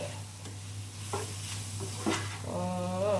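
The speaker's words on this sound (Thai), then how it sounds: "นี่ค่ะเราก็ผัดแค่แบบนี้นะคะ" Clams stir-fried with roasted chili paste in a pan, a steady soft sizzle under scraping stirs of the spatula, close and fairly quiet, with a brief voice near the end.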